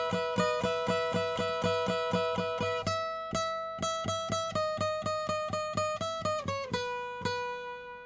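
A section of a song played on guitar: a fast, steady string of picked notes with a driving rhythm, a brief gap, then more picked notes ending in a slide before a final ringing chord, close and loud.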